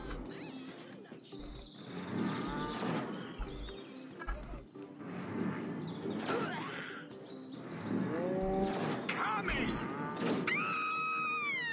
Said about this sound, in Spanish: ¿Hay alguna vaca más por aquí?